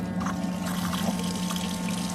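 Water flowing from a pump-fed sink tap in a Fiat Ducato camper van conversion, a strong continuous gush with a steady low pump hum beneath it, close and unbroken.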